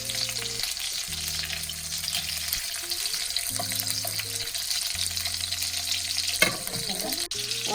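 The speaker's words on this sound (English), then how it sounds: "I'm just going to stir this all in" A seafood boil of snow crab, shrimp and sausage is stirred in a pot, giving a continuous sizzling, bubbling wash with occasional clinks and scrapes of the utensil. A steady tonal musical line runs beneath.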